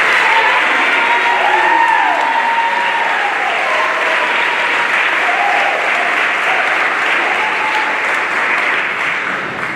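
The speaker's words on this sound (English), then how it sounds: "please hold your applause" Steady, dense applause from an audience at a school awards ceremony fills the room, loud and continuous, fading slightly at the end.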